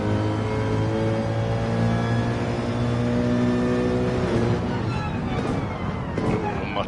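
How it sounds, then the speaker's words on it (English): A Mercedes-AMG race car engine roars loud and close during an endurance race at the Nürburgring, holding a harsh, rasping note with shifting revs as a commentator talks over it. "It's a dirty noise from the AMG."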